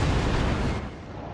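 Naval guns fire a full broadside in the World of Warships video game, a loud, dense booming roar that fills the moment and then tails off into a rumbling decay.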